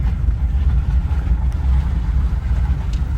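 A 1979 Dodge Ramcharger that sat unused for years runs and drives in four-high with a slight shake, its engine giving a loud, steady low rumble close by with no talking.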